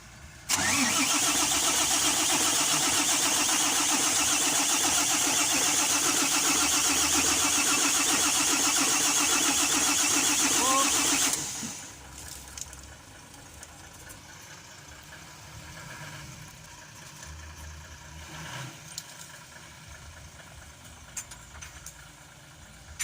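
A Howo 380 dump truck, hard to start in the morning and low on power, cranks and fires, then runs at a loud steady idle for about ten seconds before the engine note drops to a quieter rumble with faint background sounds.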